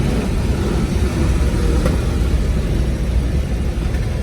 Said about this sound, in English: Here, I'm going to stomp on the brakes.